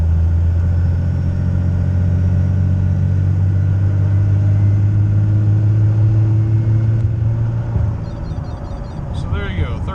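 A turbocharged car in lockup accelerating hard, a loud steady engine drone heard from inside the cabin that climbs gradually in pitch for about eight seconds, then eases off as the throttle lifts.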